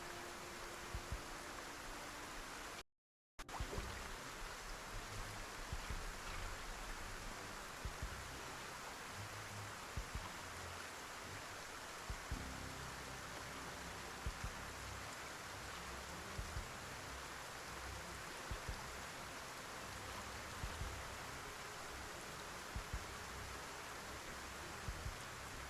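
Steady rainfall in the Project Zomboid video game, an even, soft hiss lasting throughout with a brief gap near the start and no talk.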